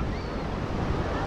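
Sea waves roll in at Cam Binh beach in Vietnam, a continuous close rush of surf mixed with wind buffeting the microphone, loud and steady with no talk.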